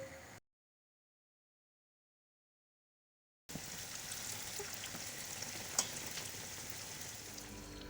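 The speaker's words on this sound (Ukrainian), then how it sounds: "І продовжуємо смажити." Donuts (pampushky) frying in oil sizzle and crackle with a steady hiss, preceded by a short stretch of silence before the frying sound resumes.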